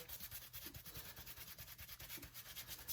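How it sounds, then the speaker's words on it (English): A ball cap being scrubbed with baking soda, a steady rhythmic rubbing and brushing scratch repeating quickly and evenly, close and soft, with no voices. "and do some scrubbing"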